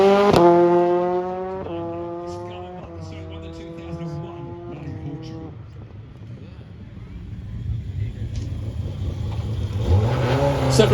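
Colin McRae's ex-Ford rally car running down the hill at Salon Prive Classic & Supercar 2022, its engine climbing in loud stepped revs through gear changes before the note drops away under crowd noise and a final rising burst.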